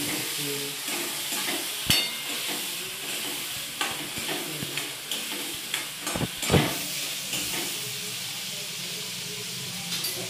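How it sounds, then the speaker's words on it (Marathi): Chopped onion and tomato fry in a pan with a steady hiss and sizzle, broken by occasional sharp clacks and scrapes of stirring, a few of them louder bursts, with no talking. "कांदा लाल होऊ दे, टोमॅटो टाकला, तळून घेऊ।"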